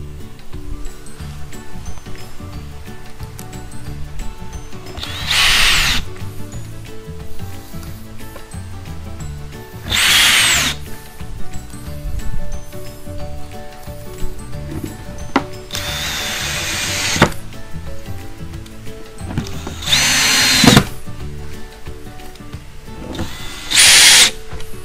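Power drill driving 1½-inch screws into a wooden Murphy bed header, five separate bursts of whirring spaced a few seconds apart, close and fairly loud over a steady low background hum.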